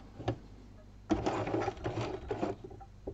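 A sewing machine stitches free-motion zigzag embroidery in cut-work with thread lace: a short whir, a pause, then a longer steady mechanical run of rapid stitching, close and moderately loud.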